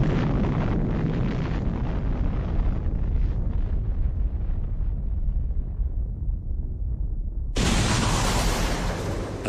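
A sustained, roaring atomic bomb explosion sound effect rumbles loud and broad for several seconds, gradually thinning, then surges back into a full, harsh blast near the end.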